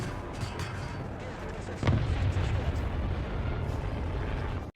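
A low-velocity Brummbar cannon in War Thunder fires one heavy boom midway that rolls off slowly, set against a continuous battle rumble and a commentator's voice.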